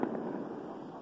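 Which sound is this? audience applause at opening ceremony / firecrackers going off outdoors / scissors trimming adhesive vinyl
firecrackers going off outdoors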